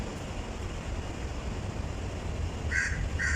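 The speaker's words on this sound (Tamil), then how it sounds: "அப்புறம் காக்கா எல்லாம் கற்றுது" At Titiwangsa station platform in Kuala Lumpur, a crow caws twice near the end, brief and moderately clear above a steady low rumble of station ambience.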